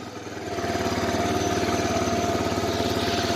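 An 1985 Honda Big Red 250ES engine catches after a hard cold start and settles into a steady, close, chugging idle that rises in the first half second and then holds even with a fast pulsing beat.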